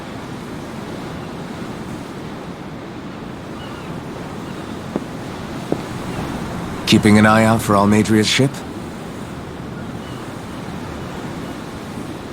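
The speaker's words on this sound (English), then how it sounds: "I'm looking at the ocean." Steady ocean surf and wind in the Tales of Arise video game wash continuously in the background, with a brief stretch of spoken dialogue partway through.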